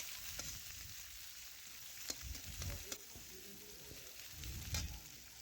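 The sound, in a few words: chopped onion frying in a pan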